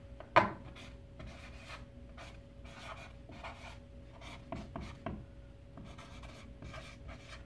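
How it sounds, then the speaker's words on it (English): A blue marker writing on paper pinned up in a classroom, soft scratchy strokes in short bursts, faint and close with a steady hum beneath. "And I'm gonna write blue times, and I'm gonna use my blue marker."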